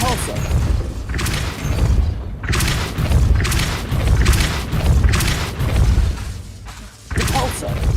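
Repeated Repulsor spells cast in Hogwarts Legacy, a series of loud booming blasts and thuds at a steady pace, each burst cut by brief gaps, with a voice calling out spell names between them.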